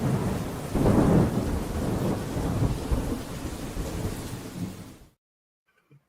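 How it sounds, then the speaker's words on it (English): Thunder sound effect: a loud rolling rumble with rain hiss that swells near the start, slowly fades over several seconds and then cuts off to silence. "Let's go. Thunder."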